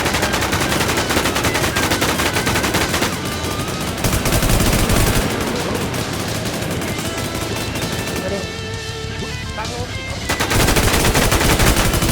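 Rapid automatic gunfire rattles loudly and almost without pause in the survival shooter Infestation, with bursts overlapping and a brief lull near the end before firing resumes.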